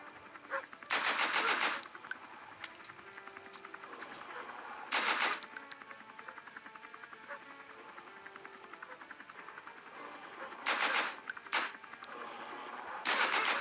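Bursts of rapid automatic gunfire from the Android game The Walking Zombie: Shooter, several long volleys separated by pauses, with quieter electronic game sounds and music continuing underneath.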